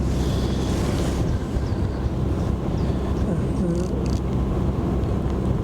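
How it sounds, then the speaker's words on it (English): Strong wind blowing outdoors across the marshes of the Norfolk Broads: a steady, loud, low roar buffeting the microphone throughout, with faint engine hum and a voice underneath. "Not sure how my furry friend's going to cope with this wind"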